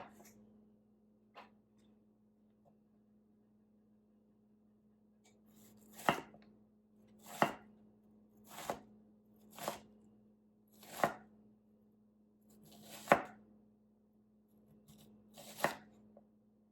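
An onion is diced on a cutting board in a home kitchen, making about eight crisp knife chops at slightly uneven intervals over a steady low refrigerator hum.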